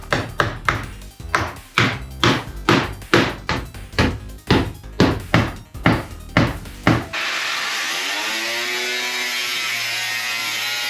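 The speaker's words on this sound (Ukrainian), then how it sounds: "напевно, потрібно буде добивати це все вже гвоздиками." Small rusty nails with polished heads driven by hammer in a garage workshop, about fifteen sharp, close blows in an uneven rhythm, then an abrupt cut to a steady, even sound.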